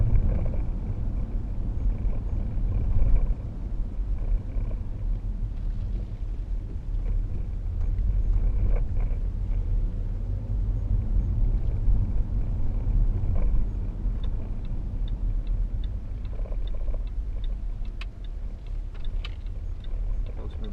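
A 2012 Range Rover Sport 3.0 SD V6 diesel pulls away quickly, heard from inside as a steady low engine rumble with road and wind noise. The sound builds slightly and stays dense throughout.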